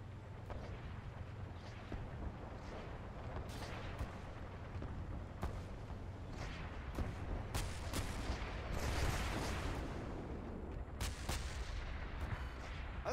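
Continuous rumbling explosions and booming artillery fire in the multiplayer tank-combat game Renegade X, with scattered sharp blasts and a heavy low drone running steadily throughout.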